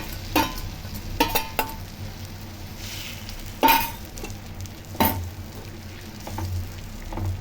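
Omelette batter hits a hot oiled dosa tawa, a continuous soft sizzle broken by several sharp metallic clanks of a utensil against the pan; no talking.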